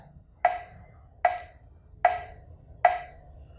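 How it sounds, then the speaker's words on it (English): Sharp metronome app clicks repeat at a steady, even pace, four crisp ticks about 0.8 seconds apart over faint background hum. "you hear a click sound like this"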